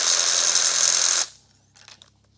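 A spark plug socket and ratchet backing out a spark plug on a Porsche 996 M96 engine, a brief loud buzzing whir for about a second, then quiet with a few faint clicks.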